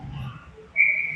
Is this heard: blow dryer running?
no